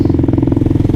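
A Kawasaki KLR 650 single-cylinder engine burbles off throttle with a rapid, even pulsing thump and a loud, close, low exhaust note for about a second.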